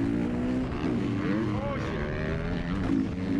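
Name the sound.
two-stroke motocross bike engine during race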